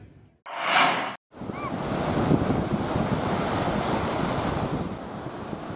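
High waves and strong wind batter a beach at Lampu Satu, Merauke, Papua, where fishing boats are moored: a brief burst of sound, a short gap, then a continuous close roar of surf and wind.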